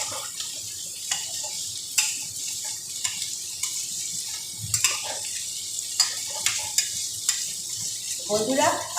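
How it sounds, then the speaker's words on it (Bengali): Soaked mustard paste going into frying spices and green chillies in a pan for a Bengali puti fish and radish dish, giving an uneven sizzle with bursts of stirring and clinks of a utensil, near and moderately loud. "এবার ভিজিয়ে রাখা সর্ষেরটা আমি এর মধ্যে দিয়ে দিই।"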